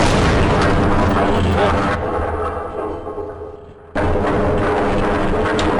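Explosion in the video game Half-Life: Opposing Force, a loud, full booming blast that rumbles on and decays for a couple of seconds before a sudden burst of noise cuts back in.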